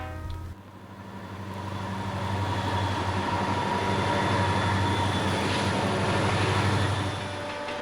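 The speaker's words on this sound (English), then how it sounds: "it is fun to watch powerful trains plow through the snowdrifts" Powerful trains plowing through snowdrifts in Maine, a loud, steady rumble and roar of locomotive and rolling cars building after a brief start and holding close for several seconds before easing slightly.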